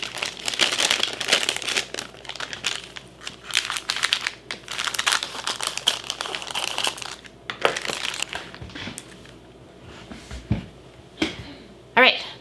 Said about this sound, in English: I'm gonna cut my chip bag open since it's not big enough to do a double layer